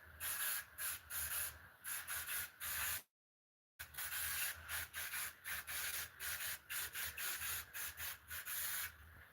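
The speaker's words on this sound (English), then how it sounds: "spray paint this a little bit farther back. So you know, there's grease, there's grime on the buildings." Short hissing bursts of spray paint misted onto O scale model layout buildings to weather them with grease and grime, repeated in a quick, steady rhythm close by with one brief pause.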